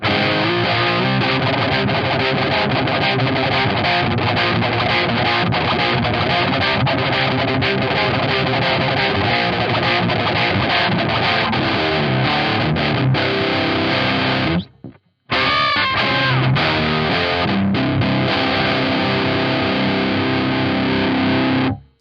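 Heavy distorted electric guitar riffs run through a Harley Benton Mighty 15TH amp head, a loud, continuous chugging passage with one brief silent gap before the playing resumes and rings out.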